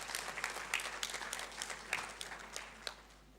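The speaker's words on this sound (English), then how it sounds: "Another round of applause." An audience at the AfrIPI launch event gives a round of applause, heard as faint, continuous clapping that gradually fades out.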